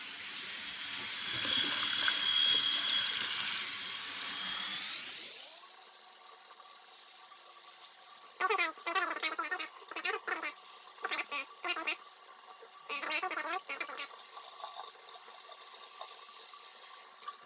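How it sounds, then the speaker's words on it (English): Tap water runs into a sink while a face is rinsed during a wet shave, a steady close splash that shifts to a higher rush partway through, with short bursts of splashing near the end. "I'm just gonna wash my face off now"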